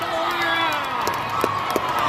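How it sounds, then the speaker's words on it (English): A crowd in a gym at a club volleyball match cheers and claps continuously, a dense roar of shouts with a few sharp individual claps popping through. "Heavy clapping by Clint"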